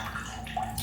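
Lemon juice, about two tablespoons, poured into a seed-oil-free salad dressing, giving a brief, close, steady liquid trickle and splash.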